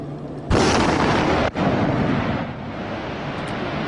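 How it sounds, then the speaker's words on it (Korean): An underwater explosion sound effect: a sudden loud boom bursts in, followed by a second sharp hit a second later, then a long rumbling, roaring wash of water that slowly settles, with no voices. "수중에서 폭발이 일어나면 먼저 충격파가 물을 타고 구형으로 전파됩니다"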